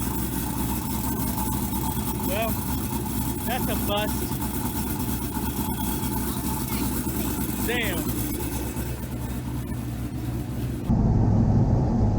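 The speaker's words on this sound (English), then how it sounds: "that is the exhaust leaking past the loud valve" A turbocharged LS engine idling while exhaust leaks past its closed loud valve, a steady rough rumble with chirpy whistling bursts throughout; someone speaks briefly over it.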